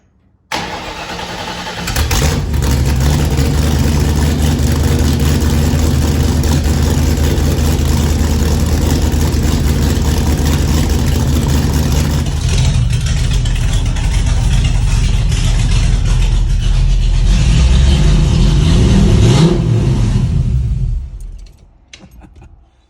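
A car fitted with a homemade exhaust of just an X-pipe and no mufflers starts, then idles and revs loud and close with a deep, raspy rumble for about twenty seconds before shutting off.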